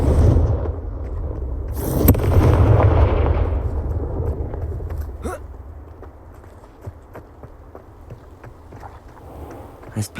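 A Confringo blasting spell in Hogwarts Legacy detonates in a loud booming explosion that rumbles and decays over a few seconds, followed by scattered thumps and clatter.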